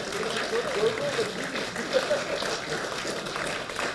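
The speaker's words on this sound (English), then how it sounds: "give them a real big applause for all the work they've done" A conference audience applauds volunteers at an open source event, a sustained wash of clapping from a crowd indoors, with voices and light chatter underneath throughout.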